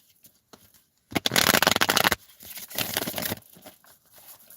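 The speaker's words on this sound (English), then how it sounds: "Okay, one more shuffle." A deck of tarot cards is shuffled in a crisp, loud riffling burst lasting about a second, then a softer, longer run of card patter follows before it fades to quiet handling.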